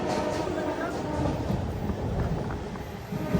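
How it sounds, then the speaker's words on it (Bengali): Kolkata Sairang Express rushing past Dum Dum Junction without stopping, a steady loud broadband rumble and rattle of the moving train heard close up, with crowd noise on a busy platform. "দমদম জংশন স্কিপ করে বেরিয়ে যাচ্ছে কলকাতা সাইরাং এক্সপ্রেস"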